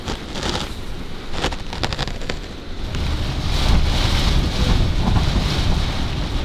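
Strong wind roars and buffets the microphone continuously at a campsite in Iceland, with gusting surges and rumbling low noise, building louder in the second half.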